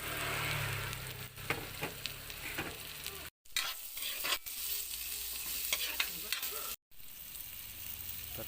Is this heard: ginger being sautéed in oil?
yes